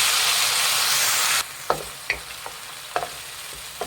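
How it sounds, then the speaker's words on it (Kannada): Ground paste of two medium onions hisses loudly as it hits a hot pan, then sizzles more softly on medium flame under sharp, irregular scrapes and clinks of a spoon stirring against the pan. "ನೋಡಿ, ಈರುಳ್ಳಿ ಪೇಸ್ಟ್ ಹಾಕ್ಕೊತಾ ಇದ್ದೀನಿ"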